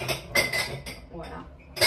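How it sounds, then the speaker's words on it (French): Dirty dishes and cutlery clink and clatter in short bursts as they are put away, close and fairly loud, with brief pauses between handfuls. "je range la vaisselle qu'on a salie ce matin"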